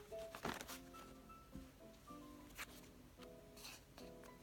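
Someone shuffles a deck of oracle cards close by, soft riffling and sliding card sounds in a few quick bursts over quiet background tones.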